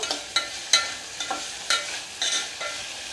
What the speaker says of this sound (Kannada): ಟೊಮೆಟೊ ಫುಲ್ ಸ್ಮೂತ್ ಆಗಬೇಕು ಆ ರೀತಿ ಇದನ್ನು ಫ್ರೈ ಮಾಡ್ಕೋಬೇಕು